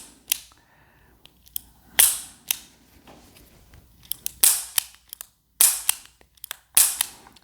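Sharp mechanical clicks from the trigger and hammer of a Smith & Wesson 637 Performance Center J-frame revolver being dry-fired, about a dozen crisp snaps spaced irregularly over near silence.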